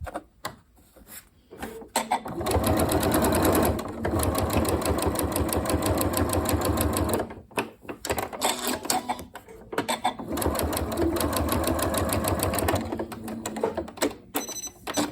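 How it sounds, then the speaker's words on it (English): Close and loud, a sewing machine stitches a cushion in two long runs of rapid, even needle chatter, each lasting several seconds, with a brief pause and light handling clicks in between. "I'm going to be sewing over these ends in a second, so I don't need to worry about doing my backwards and forwards."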